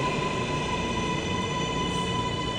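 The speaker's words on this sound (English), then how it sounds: "Manhattan-bound L train. The next stop is Grand Street." Inside a Manhattan-bound New York City subway L train: a continuous loud roar of the car in motion, with steady tonal whine and hum from the wheels and motors and no gaps, heard alone.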